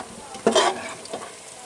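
Golden-brown fried onions scooped out of a pan with a quick scrape and soft sizzle, followed by a fainter second scoop, close up in a quiet kitchen.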